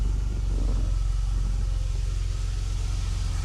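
A 1982 DeLorean idles right up close after starting, a steady low rumbling pulse with a slight throttle swell near the start before settling into an even beat.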